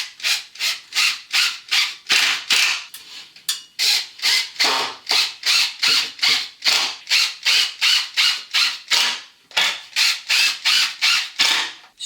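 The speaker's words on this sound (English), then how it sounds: "all I'm going to do now is pop these screws down through these holes" Screws being driven by a power drill through pre-drilled holes into a DIY wooden window sill in a loft conversion, a steady run of short, evenly repeated ratcheting whirs, each lasting under half a second, close and fairly loud with no talk.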